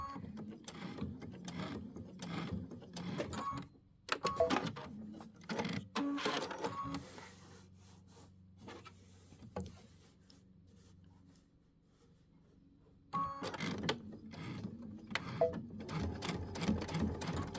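A sewing machine stitches dimensional flowers onto a quilted wall hanging, running in bursts of steady mechanical whirring with brief pauses and a quieter lull in the middle, close and clear with no talking.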